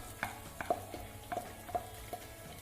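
Spoon scraping and tapping in a pan, stirring onion, ginger-garlic paste and green chili as they fry, with a soft sizzle underneath and about half a dozen light strokes.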